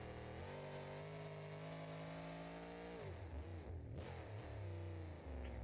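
Monster truck with a Blaze Hemi engine in BeamNG.Drive, droning at a steady pitch and then revving and dropping in wavering sweeps, loud and continuous with no talk.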